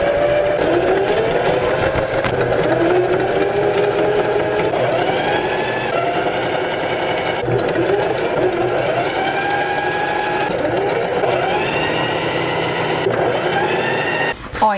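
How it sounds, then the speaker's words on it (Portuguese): A sewing machine runs steadily and loudly, topstitching fabric for a pet bow organizer on a hanger, with a continuous whirring drone and slight changes in speed throughout. "eu vou iniciar fazendo toda a parte do pesponto primeiro"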